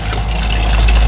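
Motorized water pump fitted to a household well, running steadily with a continuous low droning engine hum, close and loud, no voices.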